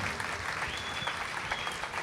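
Applause from a crowd at a radio fair for a young radio host contestant in a talent final, a continuous dense wash of clapping heard at a distance, fairly faint, with no talk over it.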